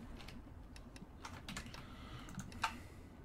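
Mouse and keyboard clicks at a computer while ender pearls are added one at a time in Minecraft: several light, quiet clicks in an irregular sequence, with one sharper tap near the end.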